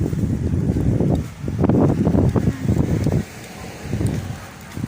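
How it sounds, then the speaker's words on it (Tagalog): Strong wind gusts buffeting the microphone in rough, uneven bursts, rising and falling over a few seconds, at Kykkos Monastery. "Labig ang hangin, no?"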